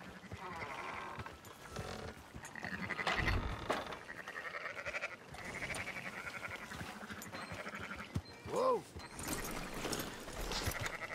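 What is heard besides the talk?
sheep bleating in Red Dead Redemption 2 video game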